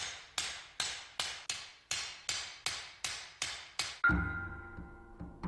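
A swordsmith hammers a steel katana blade with one small hammer to lengthen it, giving nine sharp, evenly spaced metallic strikes that ring out clearly, followed by a louder clattering, resonant clank.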